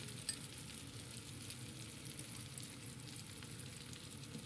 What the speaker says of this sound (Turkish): bakın güzel eridi tereyağımız